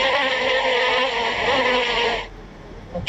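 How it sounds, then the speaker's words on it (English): Insect buzzing of a bee, a dense steady drone held loud and close for about two seconds before cutting off abruptly into quiet. "Bee."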